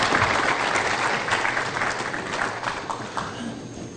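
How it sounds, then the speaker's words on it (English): An audience applauds panelists after a discussion, with dense clapping that starts loud and close and then gradually thins and fades over a few seconds. "I would really appreciate for a big round of applause for our panelists"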